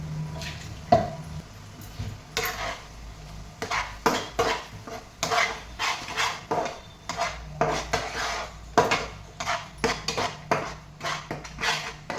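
A utensil scrapes and clinks steadily against a pan while ground masala paste is stirred and roasted for Kolhapuri mutton, sounding as close, irregular metallic knocks and scrapes.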